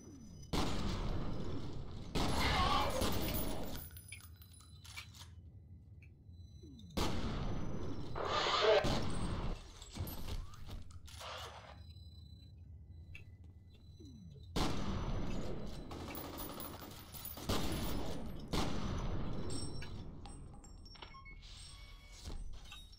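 Bursts of gunfire from the horror shooter F.E.A.R. come in three dense clusters, each lasting a few seconds with quiet gaps between, loud and close with a faint voice underneath.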